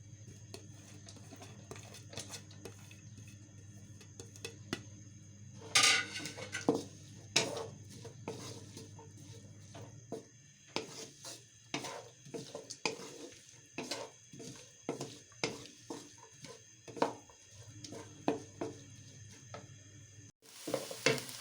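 Onions tipped into two spoons of hot ghee in a kadai, then stirred, a close sizzle with a burst on adding, followed by repeated scraping and clinking of a spoon against the pan.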